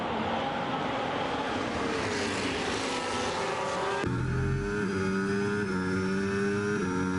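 A race car from an Austrian GP round of a racing video game whines past, its engine note sweeping in pitch as it goes by, loud and continuous, then settling into a steadier drone.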